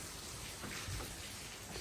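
Heavy rain outside a residential build site, a steady close wash of drops on surfaces, fairly quiet but continuous throughout.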